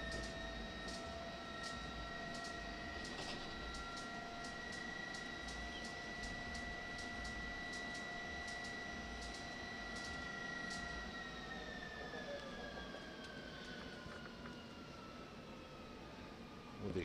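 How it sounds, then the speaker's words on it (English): Jet dragster at Santa Pod Raceway being started, with a rapid ticking igniter and a steady high turbine whine heard from a distance, the whine sliding lower near the end. "You can hear the igniter going from up here and the turbine whirring over."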